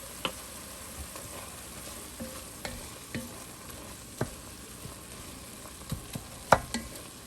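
Sausage for Zuppa Toscana fries in a pan and is stirred, giving a steady close sizzle broken by scattered sharp clinks and scrapes of the utensil, with no voices.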